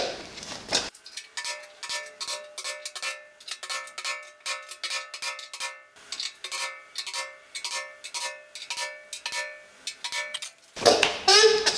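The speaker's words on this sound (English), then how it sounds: "When you take the punch to mark your spots, you don't need to drive it home hard, just a little tap." A center punch is tapped on metal to mark hole spots for a universal in-tank fuel pump tank assembly: a long run of crisp, ringing metallic taps, close and evenly paced, with brief pauses between groups.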